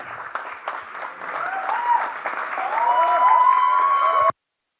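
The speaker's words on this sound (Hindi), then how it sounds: "जोरदार तालियां हो जाएं।" An audience applauds after a folk theatre performance of Macbeth in the Gavri folk style of Rajasthan's tribal people. The clapping is dense and builds steadily louder, then cuts off abruptly.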